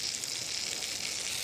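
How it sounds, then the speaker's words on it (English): Food frying in a hot pan gives off a steady, close, even sizzle with a constant crackling hiss throughout and no voices over it. "And it's sizzling away."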